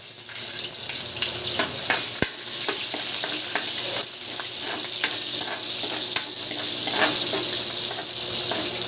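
Garlic and onion sautéing in a pan for pork menudo, a steady close sizzle with frequent scraping and stirring clicks from a utensil throughout, no talking.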